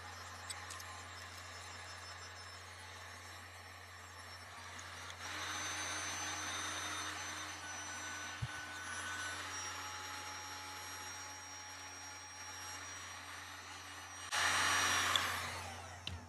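Heat gun blowing hot air to shrink wrap tight around a sublimation soda or water bottle tumbler, a steady close airy roar over a low hum, louder in the middle and surging briefly near the end.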